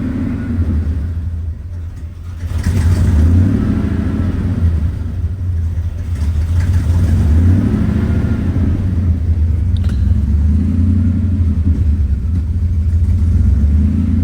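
A Road Runner's engine after an EFI conversion with the exhaust crossover blocked, a loud steady low rumble that rises slightly after a few seconds and holds a rough, uneven tone throughout, with no talking.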